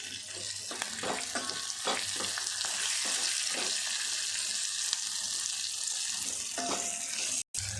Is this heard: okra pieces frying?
yes